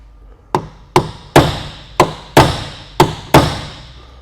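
Seven sharp metallic hammer strikes on a punch ring out at a steady, unhurried pace, driving out a rivet on a Ford Foxbody Mustang door handle, each blow close and loud with a short ringing decay.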